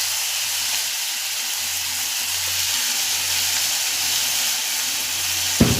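Garlic, red chili, green chili and onion pastes frying together in hot oil, giving a steady loud sizzle and hiss throughout with a faint low hum underneath.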